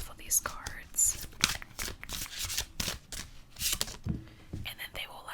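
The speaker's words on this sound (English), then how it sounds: "So then I just shuffle these cards." Tarot cards shuffled in a quiet ASMR setting, giving soft repeated riffling and papery slaps in short bursts, close to the microphone, with occasional whispered speech in between.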